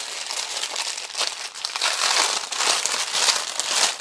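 Clear plastic envelopes crinkle and rustle steadily as they are handled up close, a continuous crisp crackling with small surges and no speech.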